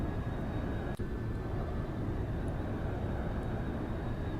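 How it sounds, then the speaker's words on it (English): Jet engine roaring at full afterburner in the X-Plane 11 flight simulator, a constant dense broadband rumble with a faint steady whine, loud and unbroken. "We got full power afterburner"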